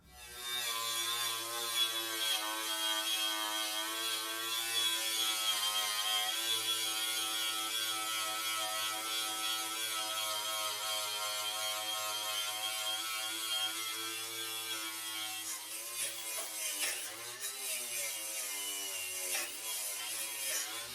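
A power tool cuts a rear bumper mount replacement panel on a 1972 VW Super Beetle, making a steady, loud, high-pitched buzzing whine that holds for about fifteen seconds and then roughens and wavers as the cut ends.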